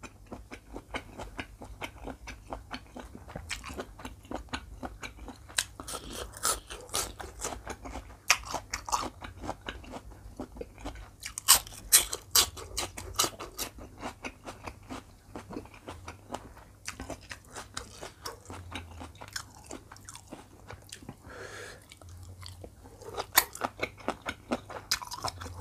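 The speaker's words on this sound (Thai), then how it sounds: "มะระจีนกัดเข้าไป" Crisp, close bites and chewing of crunchy Chinese bitter melon, with repeated sharp crunches in irregular bursts and louder snaps from the bites, with no talk.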